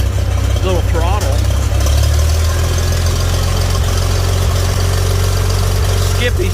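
A small engine of snow removal equipment runs at low throttle without choke, giving a loud, close, steady low idle throughout with some mechanical clatter on top.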